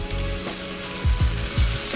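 Chicken meatballs sizzling in a frying pan, a steady close fry with a few louder pops and stirring thumps near the end, no talking.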